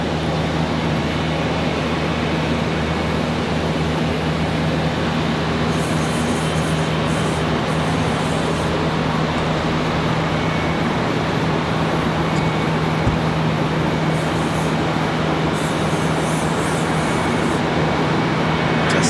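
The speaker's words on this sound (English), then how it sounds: "that's 737 off to Chicago O'Hare" A Boeing 737 jet climbs out from Charlotte Douglas International Airport, a steady loud roar of engine noise with broad rumble that holds constant throughout, with no talking.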